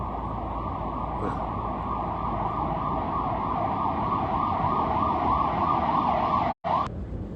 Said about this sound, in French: C'était une sirène hurlante.